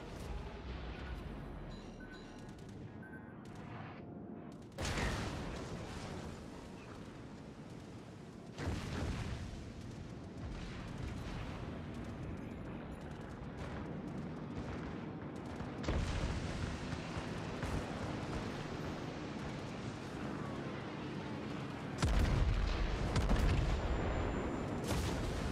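Heavy naval guns on the Japanese battleship Izumo fire in a naval combat video game, with several loud booming salvos spread over a continuous rumble of battle noise and engine drone.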